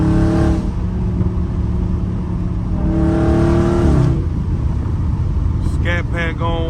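A Dodge Charger Scat Pack engine rumbles and revs heavily from inside the car, a loud continuous drone with rising pitch swells, while someone talks over it.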